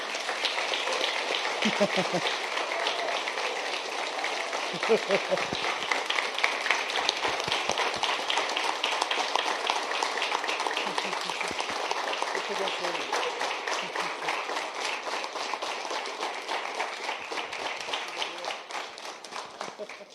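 A church congregation claps steadily after a pastoral ordination prayer, a dense and even wash of many hands lasting throughout, with a few voices faintly underneath.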